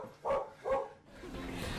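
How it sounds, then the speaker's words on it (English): Two sharp dog barks in quick succession, fairly close, followed by a low murmur of background noise. "You need the dog to stop barking."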